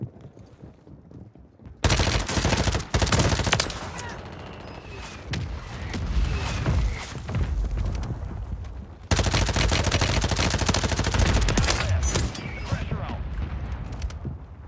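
Mortar strikes and rapid gunfire in Warzone 3 on Rebirth Island, with loud bursts of automatic fire and booming impacts arriving in two heavy waves after a quieter opening, all close and intense.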